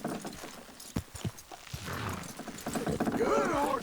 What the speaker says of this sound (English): Good horses.